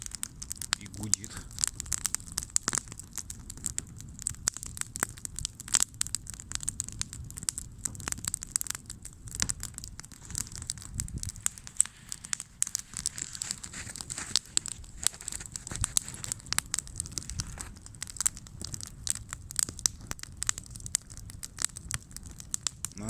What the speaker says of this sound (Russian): Попробуем снять огонь, как он горит в заснеженном лесу.